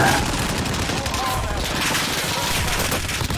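Heavy gunfire rattles through a firefight in a shooter video game, a loud, nonstop barrage of rapid shots that runs from start to end.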